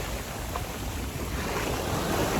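Sea waves wash continuously onto a beach in Japan, a broad steady surf noise mixed with wind buffeting the microphone, and no voices heard.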